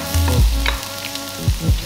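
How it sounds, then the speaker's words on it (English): A whole bulb of garlic hits pork lard in a hot wok: a bright, crackling sizzle broken by several sharp metallic clanks of utensil against wok, close and loud with no talking. "Put more pork lard in it. And then I'm gonna add the whole bulb of garlic in."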